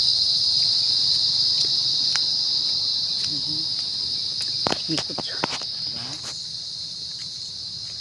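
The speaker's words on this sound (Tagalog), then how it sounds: "Marinig mo lang yung mga kuliglig." Crickets in a quiet place keep up a steady, high, continuous trill throughout, with a few scattered clicks and brief soft talk partway through.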